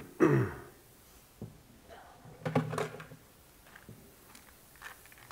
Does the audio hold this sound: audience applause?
no